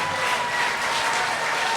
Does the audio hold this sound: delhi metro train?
no